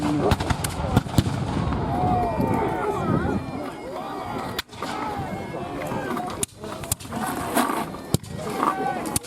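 Repeated loud booming blasts of cannon fire at the 2024 Siege of Old Fort Erie reenactment ring out over a noisy outdoor crowd, with people talking throughout.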